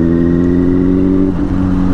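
A rare superbike's engine hums loudly and steadily nearby, then dips briefly as the revs shift before settling back into a strong, even drone.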